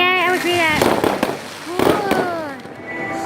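Fireworks bursting at a July 4 display, a series of loud pops and bangs heard at a distance while people talk and react excitedly over them.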